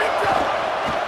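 A stadium crowd roars in a college football video game, a loud, sustained wall of cheering and noise with a commentator's voice running over it.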